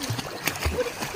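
Short splashes of a child swimming and learning to swim in a village stream, close and intermittent, with voices talking over the water.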